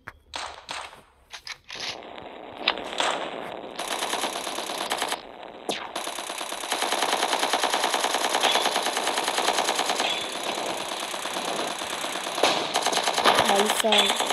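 Rapid machine gun fire rattles in long sustained bursts with short breaks in the Strike Fortress Box video game, loud and close, while a voice talks over it now and then.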